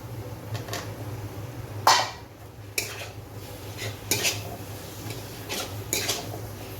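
Cut potatoes stir-fried with spices in a pan: a metal spatula scraping and knocking against the pan in irregular strokes over a low steady hum, with a few sharper clanks, close up and no talking.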